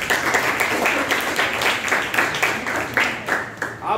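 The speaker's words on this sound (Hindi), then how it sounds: "उसके लिए तालियां बजाओ." Students in a boys' school classroom clap together, a dense, continuous patter of hands lasting throughout, with faint voices mixed in beneath the applause.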